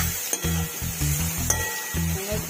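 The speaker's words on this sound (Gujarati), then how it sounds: "ટામેટા થોડા શેકાવા દેવાના" Tomatoes roasting in a pan for a Gujarati potato-tomato curry, with repeated scraping and stirring strokes over a steady low sizzle and an occasional clink of the spoon against the metal.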